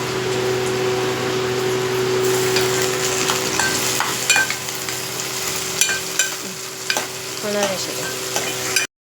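Chopped tomatoes sauté in a pan for a Chettinad chicken gravy, a continuous close sizzle with a low steady hum beneath and occasional stirring clinks toward the end, with no voices.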